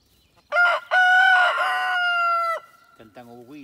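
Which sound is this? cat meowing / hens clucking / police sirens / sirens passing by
hens clucking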